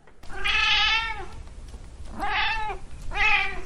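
A tomcat meows three times, loud and near: a long first call, a pause, then two shorter meows in quick succession.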